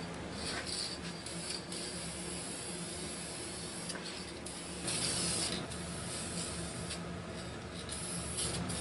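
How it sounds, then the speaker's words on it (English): A semi-gloss varnish coat is sprayed onto a wooden kitchen table, giving a steady close hiss that carries on throughout, with brief surges and small mechanical clicks from the sprayer. "I'm going to spray on a semi-gloss coat."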